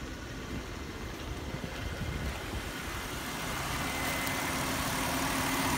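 A 2004 Chrysler Town and Country with a 3.3-liter V6 and an automatic transmission idles steadily at an auction, a constant low rumble that grows slightly louder toward the end, with no talking.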